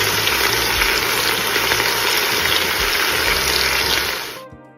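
Chopped tomatoes and thyme fry loudly with short ribs in a hot pan, a dense steady sizzle filling the whole stretch before cutting off abruptly at the end.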